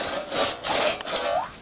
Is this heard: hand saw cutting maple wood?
yes